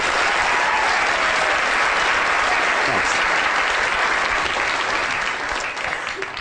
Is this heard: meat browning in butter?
no